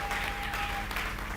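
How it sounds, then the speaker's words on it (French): A church congregation in Kisenso applauds, a steady, dense wash of clapping that fills the short stretch at an even level with no voices standing out. "Applaudissez très fort pour le Seigneur."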